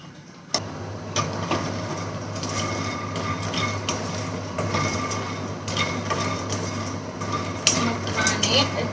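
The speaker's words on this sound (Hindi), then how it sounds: "इनको हमें हल्का पूरा होने तक भूनना है" Makhana (fox nuts) roasting in a pan: steady clicking and scraping of stirring against metal over a constant low hum, close and moderately loud throughout.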